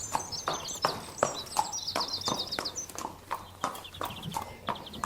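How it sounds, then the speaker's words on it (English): Horses at stables before feeding time: hooves clop in a busy, uneven rhythm close by, while birds chirp and tweet in the background. "This interview took place just a few feet away from the stables, where horses were just gearing up for feeding time."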